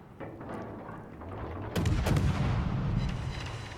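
USS Somers destroyer guns firing in World of Warships, a loud broadband boom at about 1.8 seconds followed by a dense rumbling barrage with repeated sharp shots, over a steady background of game ambience.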